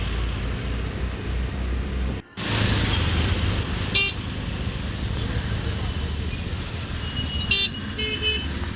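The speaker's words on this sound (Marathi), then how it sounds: "पुण्यामधलं ट्रॅफिक म्हणजे अफाट, खूपच ट्रॅफिक असतं" Inside an auto-rickshaw in heavy night traffic in Pune, a loud, continuous engine and road roar runs throughout, with short horn toots from nearby vehicles and voices faintly mixed in.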